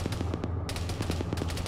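Video game gunfire comes as rapid automatic bursts of evenly spaced shots, loud and close, with a brief break before the firing resumes.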